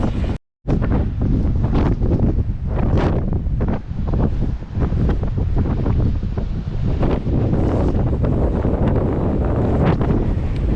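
Strong August wind gusts across an exposed hilltop on the coastal downs, roaring continuously into the microphone with heavy buffeting for the whole stretch, loud and close.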